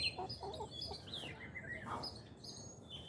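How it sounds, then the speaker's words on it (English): A small backyard flock of Ameraucana and Buff Orpington hens clucks and chirps softly nearby, with several overlapping calls over a quiet outdoor background. "Here's the chickens. They're doing good."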